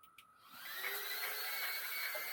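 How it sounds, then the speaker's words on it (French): Two cooling fans on a kkpit K2 Golden Beetle run flat out, a steady loud whirring hum that swells after a brief click and holds on its own without talk. "les deux ventilos, en fait, bah, c'est des surpasses et ils envoient au taquet"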